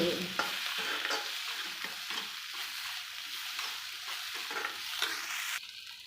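Thuthuvalai leaves sizzle softly in a pan with a little tamarind as they are sautéed for thuvaiyal. A spoon scrapes and stirs at intervals over the quiet, steady frying.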